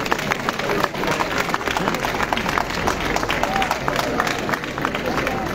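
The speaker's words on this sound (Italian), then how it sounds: "Applauso." Audience applause at a public healthcare meeting in Lombardy, dense steady clapping with crowd murmur, fairly loud and sustained throughout.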